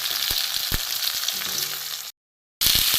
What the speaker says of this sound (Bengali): এর সাথে আলুগুলো ভেজে নেব।